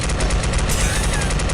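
Rapid-fire phaser shots in Star Trek Voyager: Elite Force: a fast, steady stream of pulsing energy blasts, loud and close, continuing without a break.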